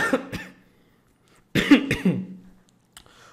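Two bursts of coughing close to the microphone, a short cough followed after a pause by a harsher run of coughs, in an otherwise quiet room.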